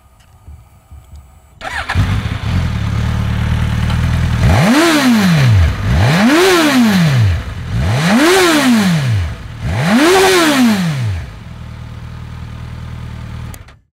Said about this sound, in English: this 999cc inline-four cylinder motor, which is fondly known as the K5 motor by enthusiasts